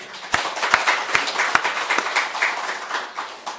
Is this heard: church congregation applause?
yes